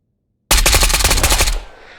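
Automatic gunfire in the VR shooter Ghosts of Tabor: a sudden, loud, close burst of about a dozen rapid rounds in steady rhythm, cutting off after roughly a second with a brief echo tail.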